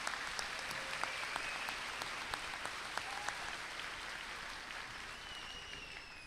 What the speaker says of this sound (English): please join me in a round of applause for Mr. Klinger and the band this evening.